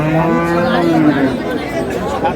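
Dairy cows and calves at Ambari cattle market in Dinajpur, with one drawn-out, close moo followed by a shorter low call over steady market murmur.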